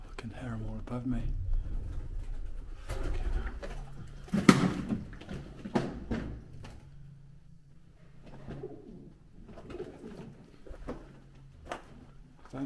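Pigeons coo from the upper levels of an abandoned bromine works, soft low calls recurring around a man who mutters and talks nearby, with occasional rustles and knocks in a dim, echoing space.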